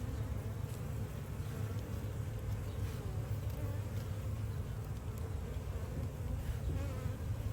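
A dense, continuous drone of many honeybees buzzing close by at an open hive during inspection, steady and enveloping with no talking.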